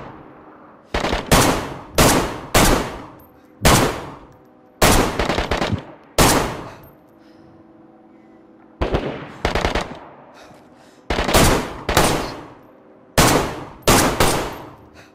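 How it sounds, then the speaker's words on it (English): Loud, close gunfire from the video game DayZ comes in several sharp bursts of rapid shots, separated by short pauses, with no talking. "I shot him off the ladder"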